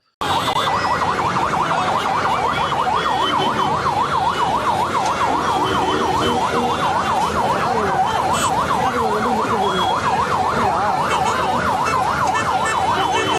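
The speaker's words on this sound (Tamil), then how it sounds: "அங்க ஒரு ஆம்புலன்ஸ் சைரன் போட்டு வந்து நிக்கிது" A wailing ambulance siren rises and falls steadily and loudly throughout, with road traffic rumbling underneath.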